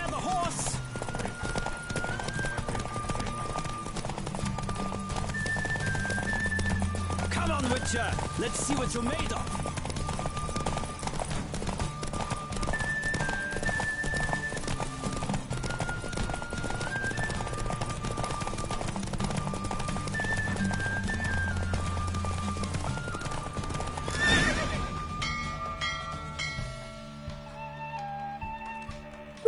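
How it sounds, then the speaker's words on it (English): A horse gallops at full speed during a race in The Witcher 3: Wild Hunt on PS4 Pro. Steady rhythmic hoofbeats run under game music, with a neigh heard along the way, and a character calls out over the sound. "Don't spare the horse!"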